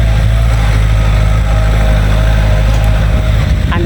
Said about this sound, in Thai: เสียงรถไถก็รบกวนเด้อค่ะ